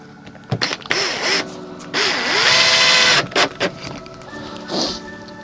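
An electric screwdriver drives screws into a wooden picture frame, with several short whirring bursts of varying length that rise and fall in pitch, close by and loud, separated by brief pauses and handling clatter.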